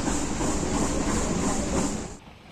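The Nilgiri Mountain Railway's Ooty toy train climbs steep track, giving a loud, steady rumble of wheels and engine with a high metallic whine above it. The sound holds close and continuous, then eases off near the end.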